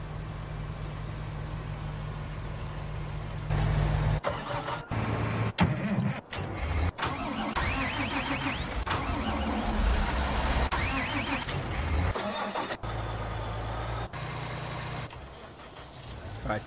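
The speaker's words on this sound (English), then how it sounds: "I'm gonna keep working this little tractor and trailer here with the potatoes" A small tractor pulling a potato trailer in Farming Simulator 19 drones with a low steady engine hum, broken by several abrupt cuts and shifts in tone, while someone talks over it.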